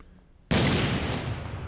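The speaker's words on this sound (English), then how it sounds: "I need a grenade put in here." A grenade explodes in the video game 6 Days in Fallujah: a sudden loud, close blast that stays as a dense roar through the rest of the moment.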